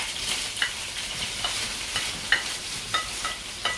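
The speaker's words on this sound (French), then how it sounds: "Et je vais mélanger les oignons." Chopped onions stirred and frying in a hot pan for a Congolese pondu dish, a continuous bright sizzle broken by regular scraping strokes of a spoon, close and clear with no talking.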